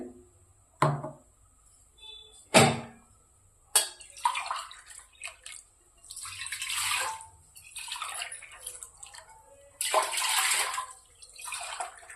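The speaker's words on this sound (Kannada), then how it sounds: "ನಾಲ್ಕು ಗ್ಲಾಸ್ ನೀರು ಹಾಕ್ತೀನಿ ರೀ" Water is poured from a glass into a pressure cooker on a gas stove before chana dal is cooked, heard as several separate splashing pours with quiet gaps between them.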